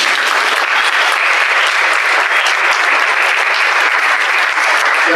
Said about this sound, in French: On applaudit Antoine.